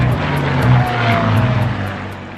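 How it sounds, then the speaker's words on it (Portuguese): Racing aircraft, propeller planes and jets, roar over the desert oval course at the Reno Air Races, a loud continuous engine drone with a throbbing propeller beat, swelling slightly as they pass. "assistir a tudo, desde bimotores a jatos competindo em torno de um circuito oval de 13 quilômetros sobre o deserto"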